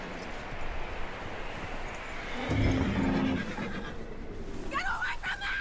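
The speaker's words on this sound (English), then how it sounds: "That looks like a decent horse." A horse in the Red Dead Redemption 2 game neighs loudly and close, with hoof clops and a windy outdoor bed, while other voices sound throughout.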